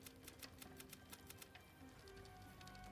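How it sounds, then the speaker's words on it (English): Computer keyboard keys mashed in rapid, uneven bursts of clicky taps, quiet and close, during an angry solo Baldur's Gate 3 session on the Honour ruleset, with no talking. "I hope you could hear my keyboard mashing coming through the mic."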